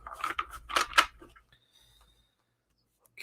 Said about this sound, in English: This microphone is not on a spring, so it probably sounds terrible when I'm shuffling.